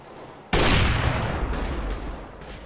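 A sudden burst of rapid automatic gunfire in CS:GO, loud and close, continuing as a dense rattling barrage with brief dips over a couple of seconds.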